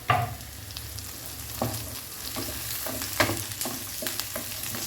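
Green chillies, eight to ten garlic cloves and an inch of chopped ginger fry over a medium flame in a pan, with a steady close sizzle broken by scraping stirs of the spatula.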